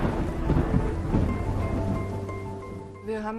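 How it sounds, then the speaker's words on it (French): Deep rolling thunder over steady rain during a thunderstorm above an airport, a heavy rumble swelling and fading across a few seconds with the rain hiss underneath. "Et soudain, l'orage éclate."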